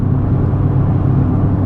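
A modified Fiat Punto engine runs at full throttle on a rolling road, giving a loud, steady, dense roar with deep low rumble and no let-up.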